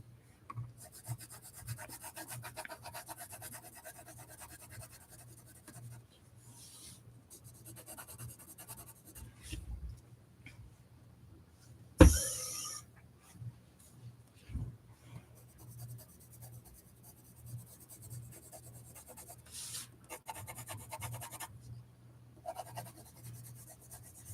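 Beige color pencil rubbing on paper while an eye is drawn, a faint, quiet scratching in short irregular strokes with brief pauses and one sharper tap midway.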